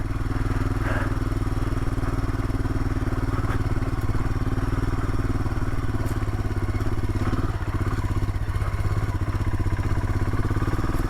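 Royal Enfield Himalayan motorcycle engine thumping steadily as it rides along a dirt road through a puddle on a snowy mountain, a continuous close, loud single-cylinder drone with light clatter and splashy thuds.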